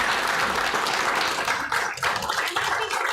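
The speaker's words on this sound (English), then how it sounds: "should we have a round of applause?" Full, continuous applause from a festival audience at a women's writing event, dense clapping filling the room steadily with slight dips in intensity.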